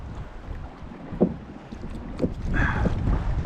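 Wind gusts over a kayak while fishing on the Chesapeake Bay, with a steady low rumble of wind buffeting the microphone and faint water sounds, no talking.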